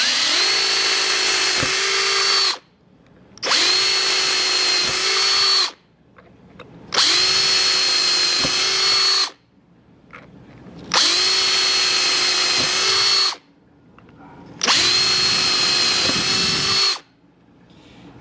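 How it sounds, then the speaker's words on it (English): A power drill drills holes in a metal barrel in five steady whirring bursts of a few seconds each, with short pauses between, loud and close. "make sure you get the tip of the drill bit in the barrel on the hole"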